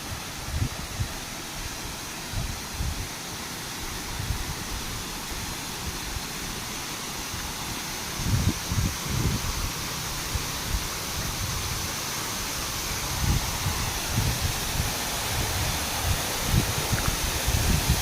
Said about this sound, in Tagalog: Busay na yan, oh.